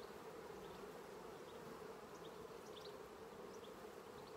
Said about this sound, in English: Look at all the bees.